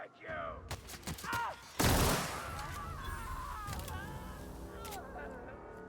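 Gunfire in The Outer Worlds video game, a burst of loud shots followed by steady combat noise and a flaring blast, with a voice talking over parts of it.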